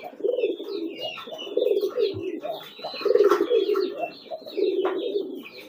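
Several pigeons coo in repeated low, throaty phrases, close by, with brief pauses between bursts and faint chirps scattered above.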